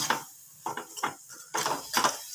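A spoon scrapes and clatters around a pan of tomato chutney in a few short, close strokes with brief gaps between them.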